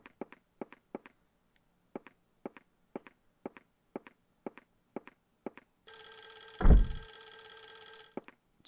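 A telephone in Clock Tower: The First Fear rings in a harsh electronic burst near the end. Before it come evenly spaced footsteps, and a loud thud lands during the ring.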